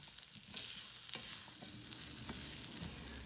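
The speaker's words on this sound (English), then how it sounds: "And we're gonna mix this all in so that everything is coated in our spices." Curry powder and spices sizzle and crackle as they toast in a pot for dahl, with a steady, close frying hiss and occasional scraping stir sounds throughout.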